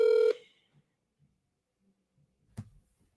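A telephone call being dialed: one loud tonal keypad beep at the start, then near silence with faint scattered handling noises and a single short clunk later on.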